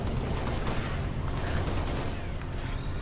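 Sustained, rapid turret gunfire in Halo Reach, dense loud bursts pounding continuously close up with no pauses, blending into a heavy barrage of shots.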